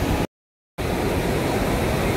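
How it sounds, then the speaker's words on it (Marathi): A waterfall at the confluence of two rivers roars as a loud, steady wash of broadband noise, cut by a brief half-second dropout before the rush resumes. "मी तुम्हाला धबधबा दाखवते।"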